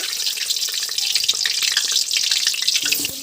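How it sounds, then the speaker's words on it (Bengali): Potatoes frying in hot oil in a wok on a clay stove, a loud steady hiss and crackle of sizzling close up, with a brief clink near the end. "এবার আমি আলুটা দিয়ে ভেজে নেব"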